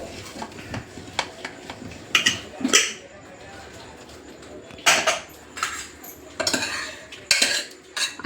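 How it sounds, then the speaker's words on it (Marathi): A pressure cooker of chandan batwa greens and chana dal is opened on a home gas stove, with metal lid and utensils clinking and clattering in bursts, several sharp knocks and scrapes separated by quieter gaps. "आपण आता कुकर खोलून बघूया"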